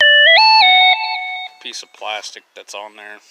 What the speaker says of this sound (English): sorry about the phone going off